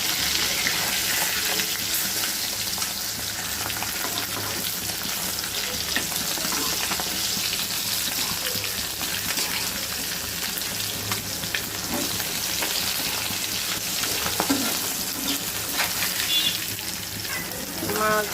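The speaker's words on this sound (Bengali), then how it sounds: "এখন আমি মাছগুলো উল্টিয়ে নিব।" Tilapia fillets frying in hot oil in a pan, a loud, dense, continuous sizzle with occasional clinks of a utensil as the pieces are turned; no talking.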